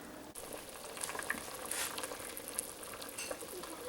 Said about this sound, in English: So you drain this water and put in some fresh water and boil it again for 10 minutes